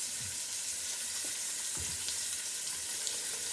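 Lamb shanks browning in a hot pan give a steady, close sizzle and frying crackle, with a few soft stirring scrapes and no talk.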